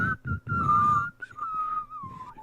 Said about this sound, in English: Do you whistle breathing in or blowing out?